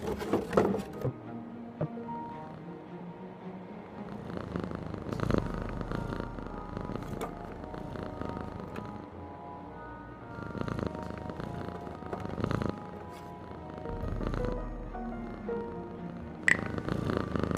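A cat purrs steadily and softly at close range by an open window in the audio game Frequency Missing, a continuous rhythmic rumble with occasional faint wooden knocks and clicks.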